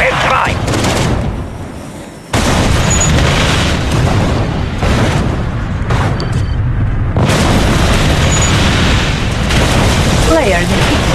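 Heavy booming blasts of V3 rocket missiles exploding in the Red Alert 2 strategy game, loud repeated detonations with a brief lull, under clipped in-game voice announcements.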